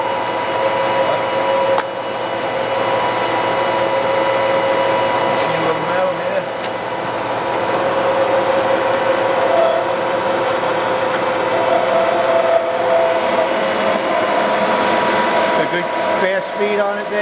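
A Takisawa 14x32 lathe, wired for 230 volt three-phase, spins at 1000 RPM with a steady, loud mechanical hum and whine that stays even throughout, and a few faint clicks and shifts in the background.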